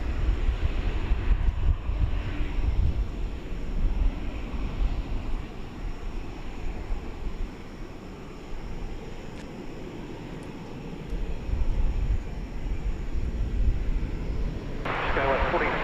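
Aircraft on the runway at DFW Airport, a broad continuous jet roar mixed with wind rumble, swelling and easing, with a voice talking over it.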